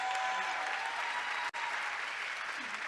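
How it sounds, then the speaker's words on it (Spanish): Conference audience applause at a forum on democratic cities and habitat policy, steady dense clapping filling the room, broken by one abrupt brief dropout midway. "un aplauso también a él"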